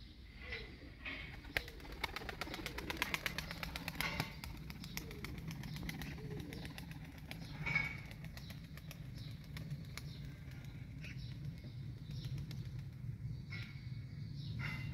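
Faint pigeons cooing in short soft calls, with brief wing flapping and rustling heard early on against a quiet outdoor background; no talk.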